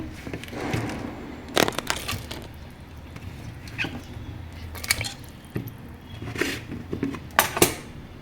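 Chopped cucumber, onion, green chilli, greens and tomato tumble into an oiled pan, giving soft wet squishes, scattered clinks and light rattling against the pan at close range.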